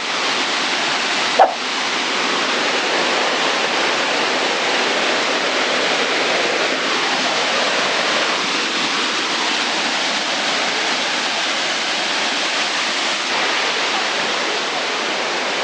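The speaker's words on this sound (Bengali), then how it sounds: "ঝর্ণা" A small waterfall in Kanching Park, Malaysia, pours with a steady, loud, close rushing roar that stays constant throughout, broken only by one brief thump near the start.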